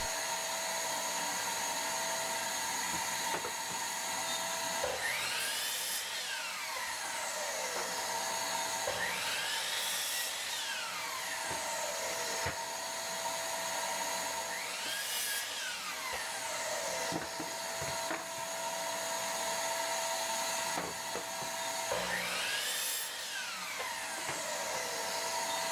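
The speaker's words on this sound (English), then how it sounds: "I go back to the miter saw with a stop block and cut all my 8, 15 and 3/4 inch parts" A miter saw cuts 2x4 lumber against a stop block, making four loud whining cuts with a rising and falling pitch at a regular pace, over a steady background hum.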